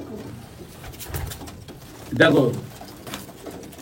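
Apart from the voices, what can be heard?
Abluk pigeons cooing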